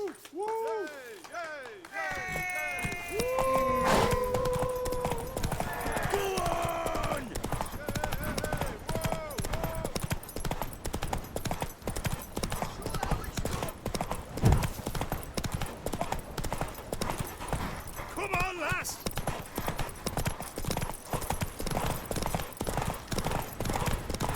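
Rapid galloping hoofbeats pound continuously at close range, with a horse whinnying and brief voices near the start, from the video game The Witcher 3: Wild Hunt, during a horse race to a tower.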